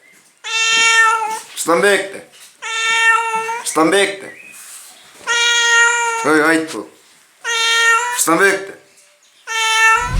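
A cat meows repeatedly in long, loud, drawn-out cries that sound almost like a word, with short breaks between them and people talking over the calls.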